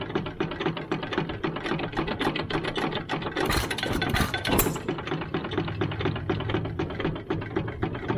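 A 1914 Sandow line engine with a 22-inch flywheel, 6-inch stroke and 4.5-inch bore runs slowly. Its steady, rapid mechanical clatter and knocking sound close and fairly quiet, with a louder hissing burst midway.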